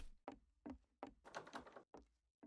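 Door thunks in the Garry's Mod video game: several short, dull knocks and thuds sound close and fairly loud in an irregular series, with brief gaps between them.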